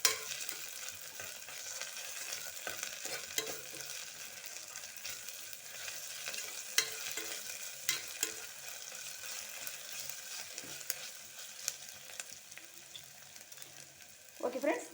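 Ginger garlic paste frying in a pan for chicken biryani, a steady close sizzle running throughout with occasional stirring scrapes and a few louder clicks near the end, no voices.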